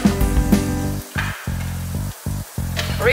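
Garlic frying in about two spoons of cooking oil for an oyster sauce prawn dish, a close, steady loud sizzle broken by brief stirring gaps and scrapes.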